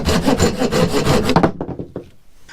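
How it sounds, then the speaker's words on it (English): A Stihl hiking saw with a tapered blade cuts through wood in loud, close, rhythmic back-and-forth strokes for about a second and a half, then slows to a few fading rasps. "I am extremely happy with the way that it cuts."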